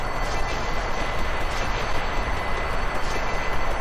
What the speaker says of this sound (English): that sound effects is just going to get worse and worse and worse as this progresses